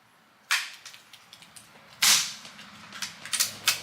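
Shots from a Barra 250z air rifle firing pellets over a chronograph: a sharp crack, a second louder crack, then a run of quicker snapping shots, each a crisp pop with a short tail, close and loud.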